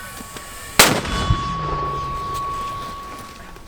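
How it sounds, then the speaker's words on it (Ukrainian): One sharp, heavy mortar blast cracks out nearby on the Bakhmut front in Ukraine, then fades into a lingering ringing tone and a quiet outdoor hush. "Постріл!"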